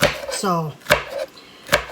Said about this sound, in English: I'm just going to be like loosely chopping these because they will go into the hot sauce